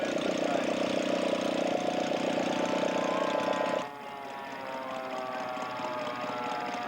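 Scale model turbine engine, started on ignition, holding a loud steady whine and rumble before dropping abruptly to a quieter, even idle that continues steadily.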